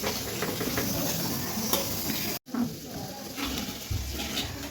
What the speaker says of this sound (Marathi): आपण मसाला तळून घेऊया